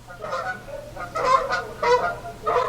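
Several geese honk in a quick series of nasal calls, close and clear, arriving in irregular bursts with no talk.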